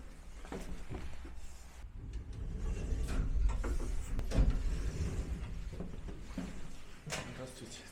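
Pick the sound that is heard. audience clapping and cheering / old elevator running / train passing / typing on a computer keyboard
old elevator running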